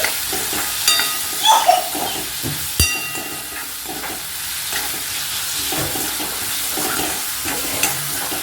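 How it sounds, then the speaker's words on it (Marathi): Bitter gourd curry with onion, tomato, chilli and salt sautéed in a pan, giving a loud steady sizzle with scraping stirring strokes throughout, no voices. "इथे चवीनुसार मीठ ॲड करायचं आहे आणि छान परतून घ्यायचं आहे"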